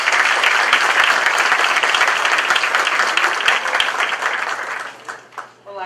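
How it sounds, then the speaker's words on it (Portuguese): A crowd applauds loudly and steadily with dense clapping for several seconds, tapering off at the end as a voice begins to speak. "Se você receber então a Sara Shiva com a salva de palmas."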